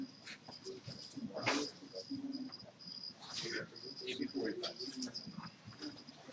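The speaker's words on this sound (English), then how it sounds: "Noisy cricket." A cricket chirps at 2 in the afternoon near windows, a steady high pulsing trill, fairly faint, running throughout under quiet talk and scattered indoor noises.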